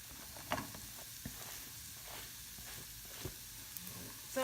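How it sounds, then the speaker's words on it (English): Onions sizzle in hot frying oil in a pan, a steady, faint hiss with a few soft knocks of stirring and a louder clatter at the end. "Yeah, I think they're going to sizzle, aren't they?"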